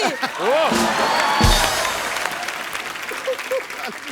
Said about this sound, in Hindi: आपने सही पकड़ा है सिद्धू बाजी, आपने सही पकड़ा। ठोको ताली।